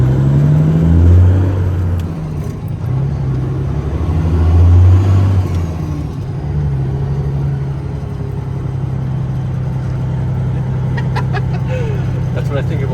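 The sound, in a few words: 2006 Peterbilt 279 dump truck engine driving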